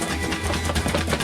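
A cardboard box shaken by hand gives a brief burst of dry, papery rattling and scuffing with its contents shifting inside, fairly quiet and over in about a second.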